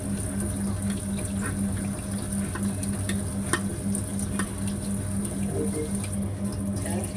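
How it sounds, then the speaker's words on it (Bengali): Cut raw jackfruit pieces are washed in a basin of water to remove the sticky sap, with soft sloshing and splashing over a steady background hum. "বেসিনে ধুয়ে নিলাম"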